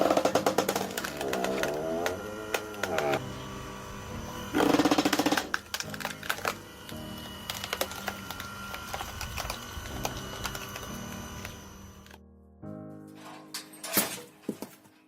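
A homemade automatic firewood processing machine cutting logs of mixed sizes, giving a busy, loud run of mechanical whirring, clanking and knocking that breaks off near the end into a few separate sharp clunks.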